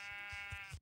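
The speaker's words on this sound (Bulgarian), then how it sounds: "Тук има още една овца." Sheep bleating in the Minecraft video game, a single short synthetic bleat with a steady harmonic tone lasting under a second, heard alone without speech.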